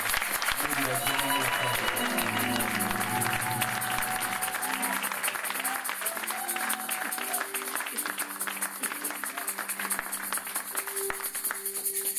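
A church congregation applauds to acclaim the Lord before a sermon by a pastor, a continuous wash of clapping with voices rising over it.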